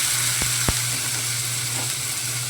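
Chopped tomatoes hit a hot pan, setting off a steady, dense sizzle of frying for the whole stretch, with a couple of sharp clicks near the start and no voices.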